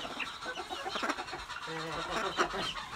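Farm chickens cluck in a short run of close, choppy calls, a few overlapping, with a rooster-like note partway through and no other notable sound.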